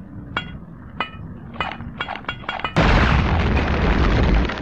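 A grenade explodes with a loud, sustained roaring blast in the shooter Return to Castle Wolfenstein, preceded by a series of metallic clinks and taps, with no talk.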